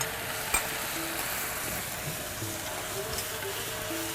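Spices and pre-boiled meat sizzle in a pan while being stirred, a low continuous frying hiss broken by occasional scraping clatters of the spoon, with no one talking.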